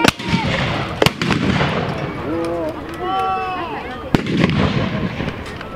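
Medieval hand guns fired in a historical demonstration outdoors, with several sharp, loud reports spaced apart, a big blast at the start and another near the end, while someone talks over the shots and the crowd chatters between them.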